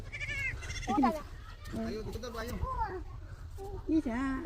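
A goat bleats repeatedly in wavering, nasal cries, several calls in close succession from nearby.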